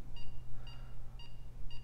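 Repeated electronic beeps from a phone being dialed in the video game GTA V, four short tones evenly spaced about half a second apart over a steady low hum.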